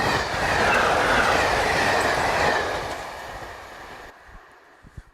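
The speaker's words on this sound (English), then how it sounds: "Once the train has passed" A train rumbles loudly through a user-worked railway level crossing with clattering wheels, then fades quickly to near silence as it passes, leaving a few faint clicks.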